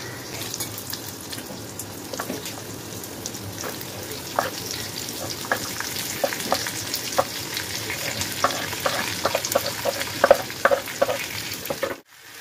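Onion fries in fresh spice masala inside a cooker, a close, continuous sizzle broken by frequent crackles and stirring scrapes that grow busier before stopping abruptly at the end.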